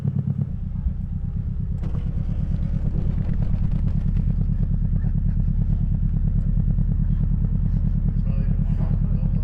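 A Purvis Eureka sports car at a large one-day car show in Australia runs its engine with a steady, loud, close rumble that holds throughout, with light mechanical clatter over it.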